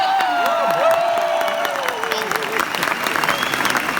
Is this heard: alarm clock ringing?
no